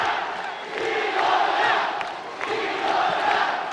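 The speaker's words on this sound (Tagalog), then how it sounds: "Sigawan sa likod natin." A boxing arena crowd shouts and roars in support of Brian Viloria during his fight against Segura, a loud sustained wall of voices swelling and dipping.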